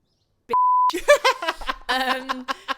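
A single steady censor beep cuts in for about half a second, followed by people talking and laughing.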